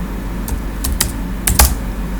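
Computer keyboard keys typed in a few separate clusters of clicks while entering data in STATA, close and moderately loud over a steady low room hum, with no voices.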